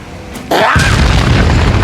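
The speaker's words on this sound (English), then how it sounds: "Melina calls in the Call of Duty airstrike cause we see explosions start going off, killing zombies left and right." Airstrike explosions in a Marvel Zombies animation: one loud, abrupt boom that hits suddenly and then rolls on as a sustained blast and rumble, with no talk.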